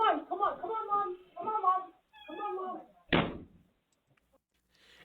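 Near the end of a short paranormal clip, a door closes with one solid thunk. Several meowing, cat-like cries come before it, then quiet.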